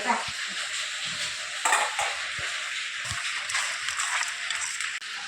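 Spices crackle and sizzle steadily in hot oil while being tempered in a home kitchen, a dense hiss with a few sharp pops and light stirring clinks throughout.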